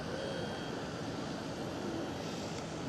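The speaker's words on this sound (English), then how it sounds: "German Airways flying for KLM Cityhopper just arrived as well, taxiing with KLM Cityhopper speed to the gates" A German Airways jet operating for KLM Cityhopper taxis at Schiphol airport, giving a steady distant engine roar and whine that holds constant throughout.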